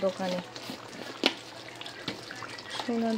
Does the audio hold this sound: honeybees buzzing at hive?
no